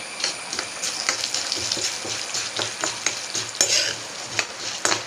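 Mustard seeds, urad dal and dried red chillies sizzle in hot oil for tempering, a steady crackling fry with quick spoon stirs and small pops throughout.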